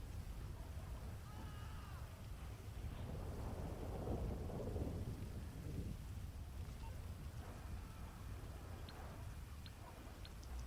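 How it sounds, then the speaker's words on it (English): Steady rain pours under low rumbling thunder in a GTA 5 in-game thunderstorm, with a constant wash of noise and a swelling roll near the middle. "It is downpouring. If you look at the puddles, it's raining harder than it was before"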